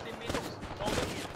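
A short burst of gunfire in the military shooter game Arma 3, a couple of close sharp shots over battlefield noise with a voice in the background.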